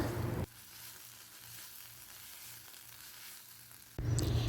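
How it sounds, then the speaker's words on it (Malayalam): Egg curry masala sizzles in a pan, a loud frying hiss at the start and end with quieter, muffled cooking and faint stirring in between. "മൂടി തുറന്നതിന് ശേഷം നല്ലപോലെ ഒന്നും കൂടെ ഒന്ന് മിക്സ് ചെയ്യാം"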